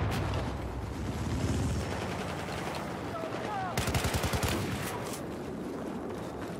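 Rapid bursts of shotgun and other weapon fire in a Battlefield 4 multiplayer match, loud and dense, with a sharp rattling volley midway over continuous battle noise.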